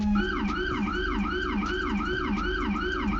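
A video game emergency vehicle siren wails in a steady, loud cycle of rising and falling sweeps, repeating about every half second, with a low engine hum underneath and no talking.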